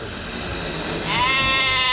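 A sheep bleats once, a clear wavering call rising out of background noise partway through and held to the end.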